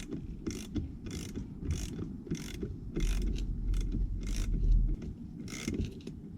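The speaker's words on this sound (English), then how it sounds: "Once the screw is tightened up, now is the time to decompress the spring" Spring compressor being loosened on a front shock absorber strut from a BMW E90/E91/E92, giving repeated ratcheting, grinding mechanical clicks in a steady rhythm, close up with no talking.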